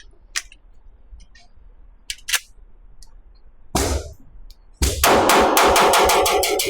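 A Palmetto State Armory Rock pistol in 5.7x28 fires rounds from a magazine: a few scattered single shots, then a rapid string of loud, sharp reports close by, without talk.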